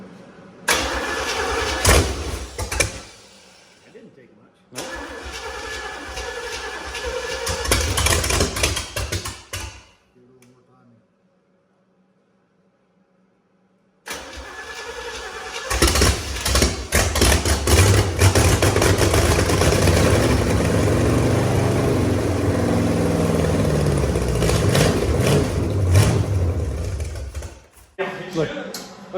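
A big-block engine in a 1955 gasser fires up for the first time with a starter crank, cuts out briefly, then restarts and runs loud and rough, revving hard up close while people talk nearby.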